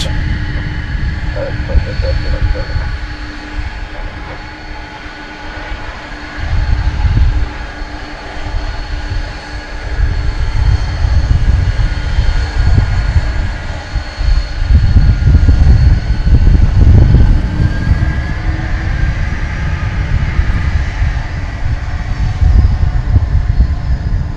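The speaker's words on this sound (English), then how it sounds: "Here's that MD-11 landed over on the east side of the big airport, coming in from Louisville, the UPS World Port" A UPS MD-11 cargo jet lands at DFW airport on the east side after arriving from Louisville, heard at a distance as a steady low engine roar that swells midway and holds, with no talk over it.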